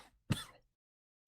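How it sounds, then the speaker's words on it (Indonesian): One sharp, close throat clear rises out of silence and trails off, followed moments later by the faint start of another cough or clearing, with no speech in between. "cuma tinggal sisa batuk-batuknya seperti yang kalian dengar dari tadi"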